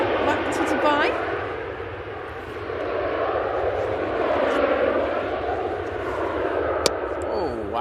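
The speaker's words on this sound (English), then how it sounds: "It's time for Emirates A380 to depart back to Dubai." An Emirates Airbus A380 departs Manchester Airport, a deep swelling jet roar with whining engine tones that rise and fall, while someone comments excitedly over it.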